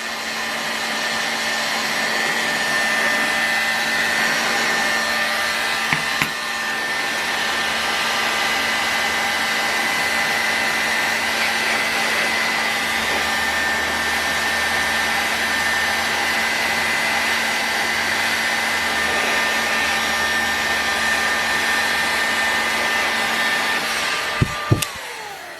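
A heat gun blows steadily for about twenty-five seconds while heating the main crank area of a Saito FA-120S model aircraft engine crankcase, a constant close airy whoosh with a couple of brief clicks near the end.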